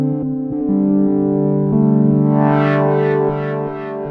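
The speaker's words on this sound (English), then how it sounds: "This time I really love the tape delay." A Korg Prologue synthesizer holds buzzy chords run through a tape delay, with repeats smearing and wavering behind the loud, steady notes.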